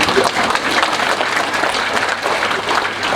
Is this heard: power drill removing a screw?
no